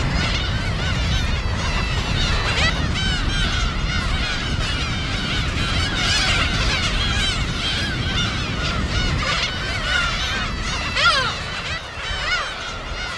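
A large flock of black-tailed gulls calling continuously at an island breeding colony, many cat-like mewing, nasal cries overlapping in a loud, busy chorus.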